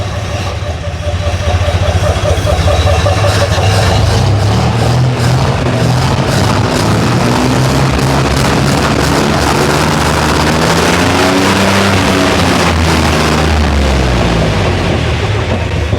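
A 1963 Jeep CJ5, run again after sitting torn apart for 25 years, idles with a loud, close, continuous engine rumble whose pitch drifts and wavers, with a voice briefly over it.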